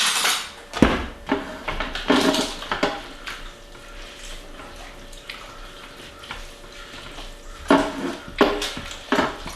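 A spoon stirs taco seasoning into ground meat in a pot, with clattering scrapes and knocks in bursts at the start and again near the end, and quieter stirring between.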